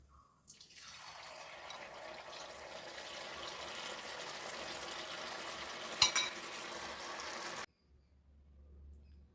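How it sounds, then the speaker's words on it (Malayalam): Cauliflower pakoda pieces frying in hot oil, a steady broadband sizzle running for several seconds with one sharp clink near the end before cutting off to near silence. "അപ്പോൾ നമുക്ക് ബാക്കി ഉള്ളതും കൂടെ ഇട്ട് ഇതുപോലെ ഫ്രൈ ചെയ്തെടുക്കാം."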